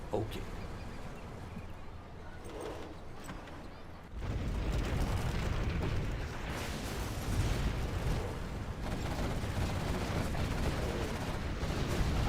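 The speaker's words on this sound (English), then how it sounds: "Those are infernal cannons." Infernal cannons fire in a Generals Zero Hour 1v1 match, a sustained barrage of heavy booms and explosions that swells loudly after a quieter start.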